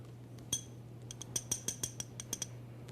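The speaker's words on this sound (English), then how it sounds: "Put your ear in the empty glass and tap on it with the back edge of a knife." The back edge of a knife taps an empty drinking glass about ten times, light bright clinks in an uneven rhythm over a faint steady hum, close and quiet.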